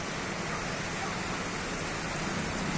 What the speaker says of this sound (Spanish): Vuelve a fortalecerse la lluvia otra vez